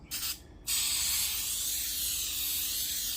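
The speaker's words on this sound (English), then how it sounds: "This is just a spray to keep it from sticking." A short puff of cooking spray into a glass casserole dish, a pause, then a long steady aerosol hiss up close, continuing without a break.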